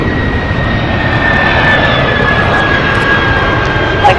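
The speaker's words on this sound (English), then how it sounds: "Loud reversers going long on us here." A landing LATAM Cargo Boeing 767 ER runs its thrust reversers in a long, loud, steady roar with a high whine riding on top, heard alone without talk.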